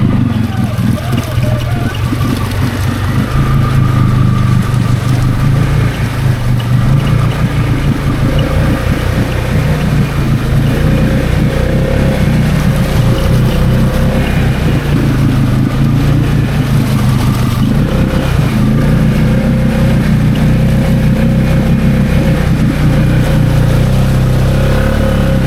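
A Can-Am Outlander XMR 700 ATV churns deep through a swamp with weeds packed under its front end, its engine roaring loud and close without pause, along with sloshing water and a faint voice now and then.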